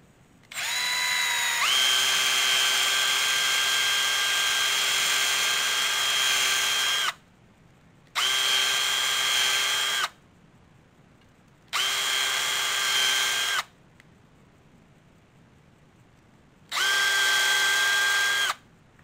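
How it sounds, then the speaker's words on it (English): A power drill boring a hole through a still-warm Christmas tree beanie mold, running in four loud, sustained bursts of whining motor with short pauses between, close and without talk. "let me drill the hole."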